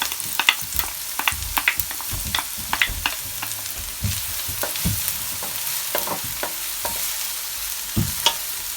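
Half a white onion and a stalk of spring onion frying in a pan for Jamaican peppered shrimp, a steady sizzle broken by frequent sharp clicks and scrapes of stirring, close and alone.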